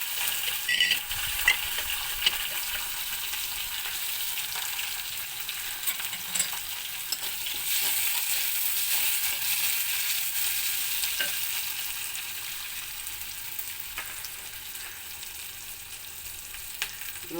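Shallots and green chilies fry in hot oil in a pan with a steady, close sizzle that holds at an even level throughout, with occasional scrapes of stirring and no voices.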